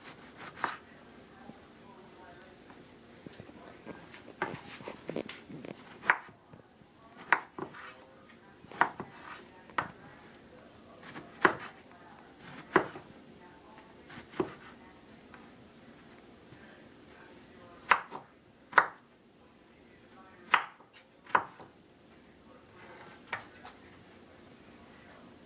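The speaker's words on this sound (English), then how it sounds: "I'm going to show you how to cut the eggplants." A knife chops eggplant on a cutting board while vegetables are prepared for a Haitian vegetable stew: a series of sharp, close, irregular taps and clicks over a quiet kitchen background.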